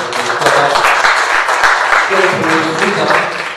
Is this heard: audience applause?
yes